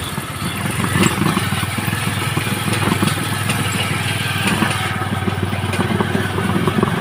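A motorcycle engine idles steadily and close by with a low, constant rumble and some mechanical clatter, continuous throughout with no voices.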